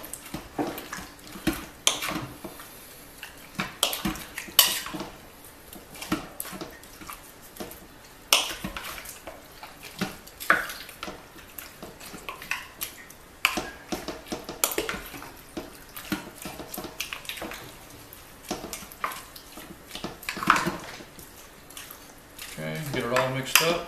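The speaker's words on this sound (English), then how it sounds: "Get your wood spoon and mix it all up." A wooden spoon stirs rabbit stew in a crock pot, making irregular wet scraping, sloshing and soft knocking against the pot across the stretch, with faint voice sounds now and then.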